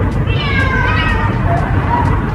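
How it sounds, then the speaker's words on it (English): Cats yowling late at night, loud drawn-out caterwauls rising and wavering close by over a constant noisy background. "These cats are summoning other world species late at night."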